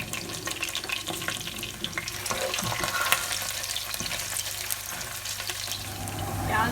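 Onions fry in about a cup of hot oil in a pan for mutton rogan josh, a constant crackling sizzle with occasional stirring and scraping, close and fairly loud, with no voices.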